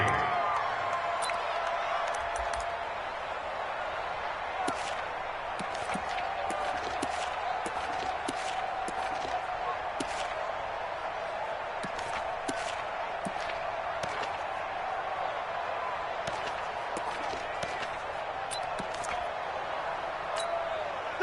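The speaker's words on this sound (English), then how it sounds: "the crowd getting into it as we come up on a big 3rd down" Stadium crowd noise from an American football video game on PS4, a steady roar of cheering throughout with scattered sharp thuds and clicks over it, building ahead of a big third down.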